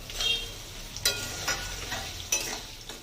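Sliced ginger fries in a pan with tomato and slit green chillies for a green papaya dal: a steady hot sizzle, broken by four brief scraping stirs of the spoon at fairly regular intervals.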